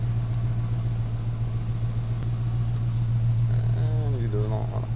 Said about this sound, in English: This one you have to hold the ignition button down for it to fire up completely.